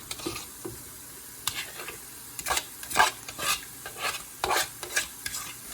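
Noodles tossed and stir-fried in a hot pan for street-style vegetable Hakka noodles: brisk, rhythmic spatula scrapes and clatters over a low sizzle, growing louder toward the end, with no talking.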